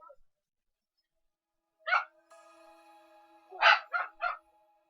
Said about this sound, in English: I have dogs barking.